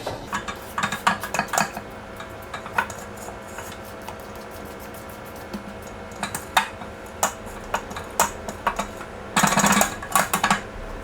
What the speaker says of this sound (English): So we're gonna scrape.